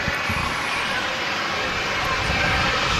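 Airliner engines at Manchester Airport, a steady loud jet roar holding level throughout, with a faint voice underneath.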